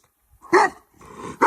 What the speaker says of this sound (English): The animals barked loudly and moved closer.